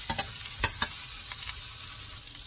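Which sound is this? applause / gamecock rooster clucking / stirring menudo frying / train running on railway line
stirring menudo frying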